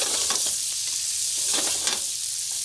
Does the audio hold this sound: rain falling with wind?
no